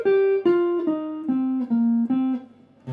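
Electric guitar plays a descending C blues scale phrase with slides between notes, six steps falling in pitch at an even pace, close and unaccompanied, ending on a softer tail.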